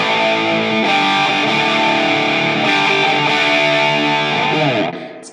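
Electric guitar played through an ENO Music Classic distortion pedal with distortion, volume and tone knobs around halfway, a loud sustained overdriven chord ringing steadily for about five seconds before cutting off abruptly at the end.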